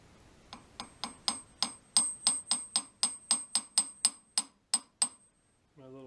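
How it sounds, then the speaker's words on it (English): A small handmade copper hammer taps a lathe center about fifteen times in a steady, even rhythm, each strike bright and ringing, close and clear, then a brief low sound at the end. "My little copper hammer I made."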